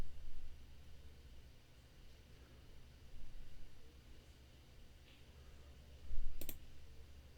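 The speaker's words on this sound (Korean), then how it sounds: "오른쪽 마우스 클릭해서" A single sharp right mouse click sounds near the end, with maybe a faint click earlier, over quiet background hiss.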